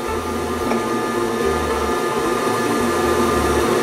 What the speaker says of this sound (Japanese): 一通り拭いたらこのツールクリーナーを入れてうがいをしていきます